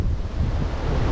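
Rough ocean surf churns during a typhoon, waves crashing in a loud, continuous roar with heavy wind buffeting the microphone, close and unbroken throughout.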